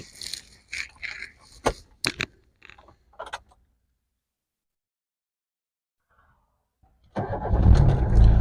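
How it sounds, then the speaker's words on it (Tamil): A Tata Indica V2 car engine starts up after a quiet pause and settles into a steady, rumbling idle, close by; faint brief talk and clicks come before it. "வண்டி பார்த்துக்குங்க இன்ஜின் நாய்ஸு நீட்டாக இருக்கும்"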